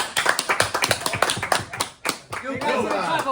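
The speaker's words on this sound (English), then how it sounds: "Everybody, clap." A small group claps hands in loose, uneven bursts at an informal gathering, with talking and a chuckle mixed in before the claps give way to other room noise.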